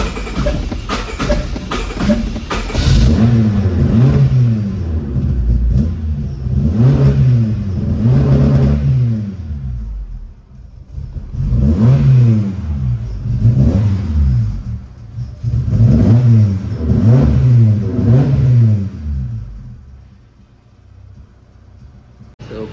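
Car engine cranking to a start after sitting unused for over two weeks, then repeatedly revving in loud, close bursts that rise and fall several times before settling to a lower idle.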